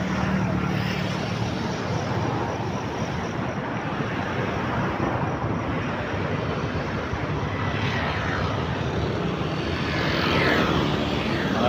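A propeller airplane landing at an airport at dusk. A loud, steady engine roar with broadband rushing noise holds throughout, swelling slightly toward the end, and no talking.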